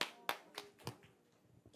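Congregation clapping at a children's worship service in a church, heard as a few separate sharp claps spaced irregularly, fairly faint, with no talk over them.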